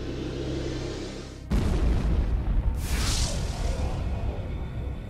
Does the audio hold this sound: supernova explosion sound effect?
yes